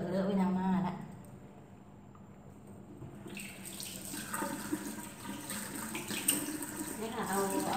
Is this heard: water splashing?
yes